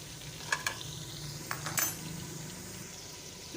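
A cut tomato added to a frying pan while cooking kaddu, giving a quiet steady sizzle with a few light clinks and stirring scrapes early on, close and soft.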